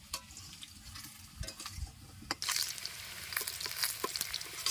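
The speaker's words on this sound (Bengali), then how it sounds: "আলুটা এইভাবে ভেজে নিয়েছি" Potatoes fry in hot oil with a faint, steady sizzle, broken by occasional scrapes and clicks of stirring that grow a little louder midway.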